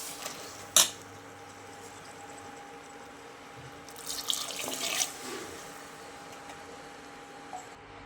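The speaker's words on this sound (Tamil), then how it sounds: "இப்போது நமக்கு தேவையான அளவுக்கு தண்ணி சேர்த்துக்கலாம்." Water pours and splashes into a pot of chickpea curry for a second or two midway, against a quiet kitchen background with a faint steady hum.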